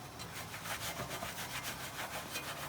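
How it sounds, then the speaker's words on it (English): A wheel brush scrubs car wheels with fast, rhythmic bristle rubbing, a close and steady back-and-forth scratching that repeats without a break. "Give everything a good old scrub"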